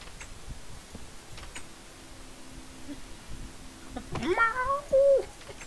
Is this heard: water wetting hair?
no